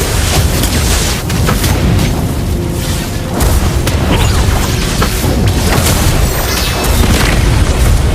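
Loud, dense explosion audio from the mobile game Mobile Legends as a turret is destroyed, a sustained booming blast with crashing debris filling the whole stretch at high volume.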